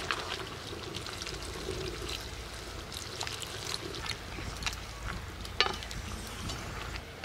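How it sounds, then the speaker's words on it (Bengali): Cornflour slurry poured into chilli chicken in a pan and stirred, a soft steady pour and sizzle with scattered stirring scrapes and a spoon knock, no voices. "এবার সামান্য গুলিয়ে রাখা কর্নফ্লাওয়ারটা দিয়ে দিচ্ছি। দিতে থাকবো আর নাড়তে থাকবো।"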